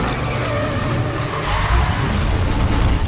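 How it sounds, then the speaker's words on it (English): Car chase from the action film Mission Impossible Dead Reckoning: loud, dense engine roar with revving and rumbling impacts, continuous and close, with no talk. "Like this car chase scene."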